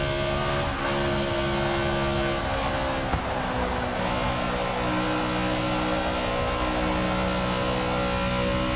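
NASCAR race car engines in the Forza 6 video game roar in a continuous, loud, near drone with steady revving and no talking.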